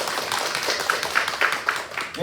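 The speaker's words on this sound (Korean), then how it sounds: "함께해 주신 목사님께 다시 한번 박수 부탁드리겠습니다" A small gathering at a Christian school parents' session claps for a pastor, a short burst of close, dense clapping with a voice briefly audible near the end.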